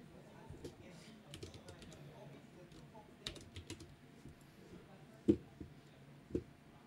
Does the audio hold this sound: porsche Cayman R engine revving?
no